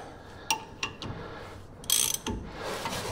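A hand wrench tightens a lug nut onto a new wheel stud on a 2018 Chevrolet Colorado, giving a few close metallic ratchet clicks and scrapes over low background noise, with no talk.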